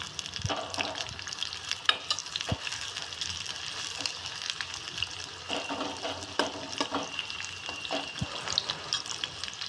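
Onions frying on a low flame, a continuous soft crackling sizzle with faint intermittent clicks and stirring.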